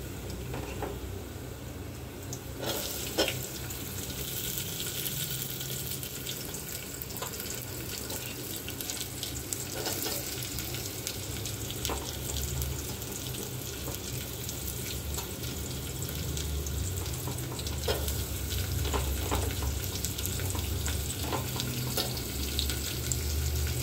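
Onions fry in a pan of oil after the garlic has browned, giving a steady close hiss of sizzling with occasional crackles and light stirring scrapes throughout.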